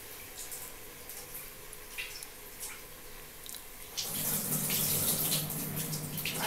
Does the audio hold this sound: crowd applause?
no